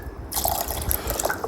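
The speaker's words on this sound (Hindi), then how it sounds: "आधा ही कप हम इसमें ठंडा एकदम चिल्ड पानी डाल देंगे" Chilled water poured into ghevar batter in a mixer jar, a short bright splashing pour that starts abruptly after a brief quiet moment, with close gurgling and a few drips, no speech.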